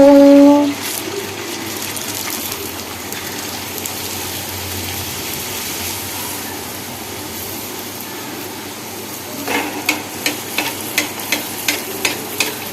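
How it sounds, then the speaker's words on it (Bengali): Luchi fry one by one in hot oil in a kadai with a loud, continuous sizzling hiss, then a run of regular clicking taps toward the end. "এবার একটা একটা করে ছেড়ে দেব আর গরম গরম ভেজে নেবো"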